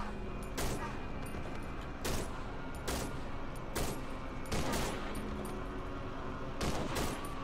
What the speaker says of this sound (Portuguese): Tomei headshot do sniper americano.